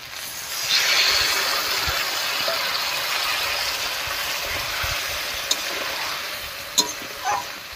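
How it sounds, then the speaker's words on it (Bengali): Water hissing as it hits a hot pan of spiced fish curry with bata fish and kochur loti, a steady broad sizzle throughout, close and fairly loud, with a couple of brief clinks near the end and no talk. "এবারে জল দেব।"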